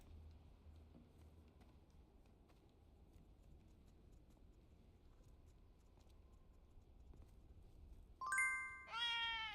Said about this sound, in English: I heard the sub notification there.